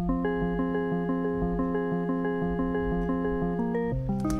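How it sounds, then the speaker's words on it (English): An analog jazz guitar synth preset in FL Studio plays a steady melody of repeated plucked notes in an even rhythm, clear and close, with no voices. "jazz guitar. Sounds like this."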